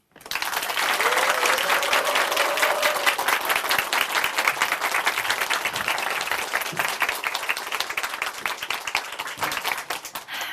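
Sustained applause from a church congregation after a testimony, rising quickly and holding dense and steady for about ten seconds, with a brief voice near the start.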